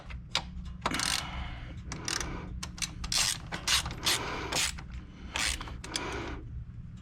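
Mechanical ratcheting and clicking from tightening a part during service of a Can-Am Spyder RT, with the HCM/transmission filter and fuel filter being changed; repeated bursts of close, irregular metallic clicks with no talk.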